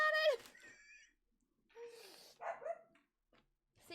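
A dog barks several times close by in a quiet indoor room, short sharp yips with pauses between.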